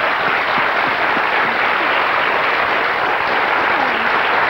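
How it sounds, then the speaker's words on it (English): Steady, loud studio audience applause on a 1991 TV game show, continuous even clapping with faint voices underneath. "Give them a big round of applause"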